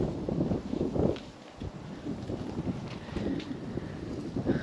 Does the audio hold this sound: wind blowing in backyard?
yes